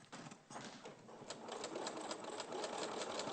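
A sewing machine stitches in a fast, steady mechanical patter, close and moderately quiet, running continuously with a brief hesitation near the start.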